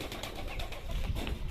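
A pigeon on a house rooftop cooing in soft repeated low calls, faint and close, amid light background noise and no speech.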